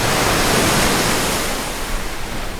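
Strong surf breaking on a rocky seashore, a loud, steady broadband wash of water with no distinct individual wave crashes, slowly easing toward the end.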